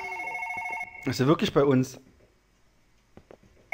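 A telephone rings in the horror video game One Late Night, a steady electronic ring at the start and again at the very end, with someone talking loudly over the middle.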